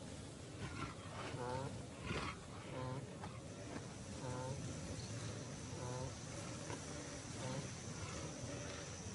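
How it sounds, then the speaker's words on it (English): A male lion emerges from a thicket in the wild, giving a series of deep, rhythmic grunting roars, repeated about every second and moderately distant. Low rumbling and insect buzz run beneath. "A lion, alerted by the noises, emerges from a thicket."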